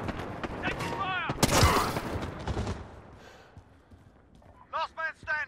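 Gunfire erupts in a Call of Duty Modern Warfare 2v2 Gunfight match: a dense, loud burst of shots near the middle. Voices talk before and after it.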